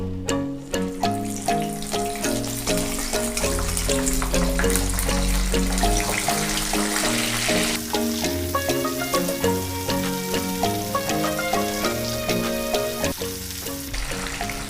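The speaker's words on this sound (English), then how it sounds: "Now we are going to refry it, which is our second stage, so it will become nice and crispy" Loud, steady sizzling and bubbling of Korean fried chicken in its second deep frying in hot oil, continuous throughout with crackling bursts.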